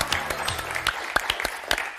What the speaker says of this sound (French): première partie de Josette et de Delphine qu'on va applaudir très fort.